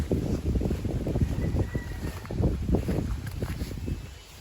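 Strong wind during kite flying buffets the microphone in continuous low, rumbling gusts that surge and ease without pause.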